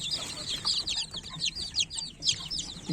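Many chickens, roosters and chicks chirp and cluck at once in a coop, a busy, overlapping chatter of short high calls close by.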